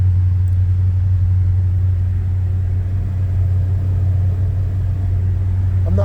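A Chevy C10 pickup engine idles steadily while warming up after sitting for weeks, a loud, even low rumble that holds constant throughout with no revving.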